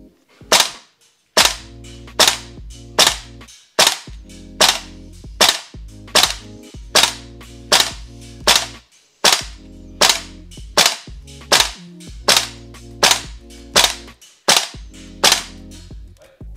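VFC AK-74M gas blowback airsoft rifle fired semi-automatically on an indoor firing lane, about twenty loud sharp cracks at a steady, unhurried rhythm, each with a brief mechanical clack of the cycling bolt.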